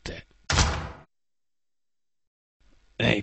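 A car door at a rally event shuts with a single loud, broadband thud, bracketed by brief bursts of voice before and after a stretch of near silence.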